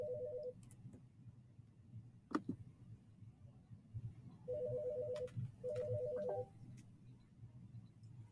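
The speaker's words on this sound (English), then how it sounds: "sorry, my phone is ringing." A mobile phone rings in a quiet room, with short, faint electronic tone bursts repeated in a pattern alongside a few clicks and taps.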